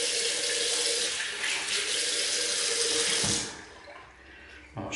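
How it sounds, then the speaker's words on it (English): Tap water runs steadily into a sink while a shaving brush is rinsed under it, a loud continuous splashing rush that cuts off abruptly after about three seconds, leaving faint room noise and a brief clatter at the end. "I'll just rinse out my brush quickly."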